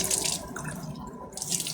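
Water runs from a kitchen tap into a sink, a steady close splashing stream lasting under two seconds with no voices.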